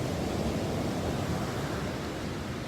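Sea waves break on a beach as the tide comes in, a dense steady wash of surf roaring close by with no voices over it.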